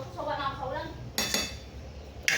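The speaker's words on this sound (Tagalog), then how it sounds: "Ay, hinalo-halo ko muna pala." Pork nilaga stew is stirred in a pot with a ladle, giving a few sharp metallic clinks and scrapes against the pot rim over a low background hum, close and fairly quiet.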